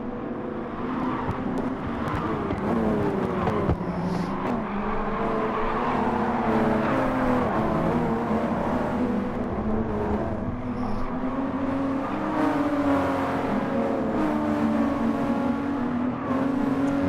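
Race cars in the video game Gran Turismo Sport roar continuously at steady loudness, engines droning and shifting pitch as several cars run close together, with no talking.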